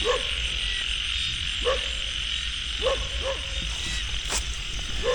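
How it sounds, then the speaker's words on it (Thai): Frogs croak in a wet field on a rainy-season evening, several short distinct croaks spaced a second or so apart over a steady buzzing insect chorus and low background rumble. "กบครับพี่น้อง"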